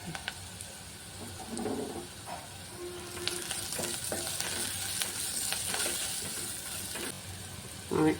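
Onions frying with salt and turmeric in a pan for a chutney, a soft steady sizzle with occasional scrapes of a spatula, fairly quiet and close, with no talking.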